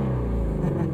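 A 2020 Ford Mustang Shelby GT350R exhaust in sport mode gives a deep, loud, continuous rumble from close by, steady over a brief moment.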